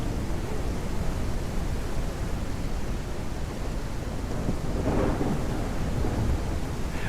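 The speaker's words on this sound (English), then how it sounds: "So, does the rain ever stop here?" Steady rain hisses throughout a Draconia pre-alpha game scene, with a soft rumble of thunder swelling faintly in the background around the middle.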